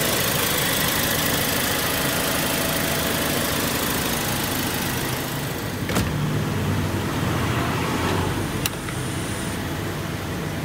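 A 2016 Toyota Sienta V Matic engine idles with a steady, continuous hum at close range. A couple of short clicks and knocks sound over it near the end, and no one speaks.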